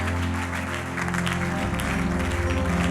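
Church congregation clapping and cheering in praise, a dense continuous wash of applause with a steady low musical drone beneath it throughout.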